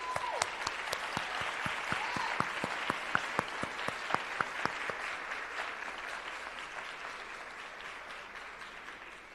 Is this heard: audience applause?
yes